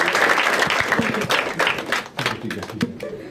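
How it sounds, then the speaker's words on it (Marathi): Stand-up comedy crowd applauding two people during a Marathi crowd-work show, a dense round of clapping that starts full and gradually thins out toward the end. "ठीक आहे, एकदा टाळ्या होता दोघांसाठी."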